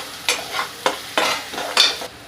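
Onion-tomato masala for dhaba-style chole fries in a pan, with five or six scraping stirs breaking up a continuous sizzle, each stroke a brief, close swish.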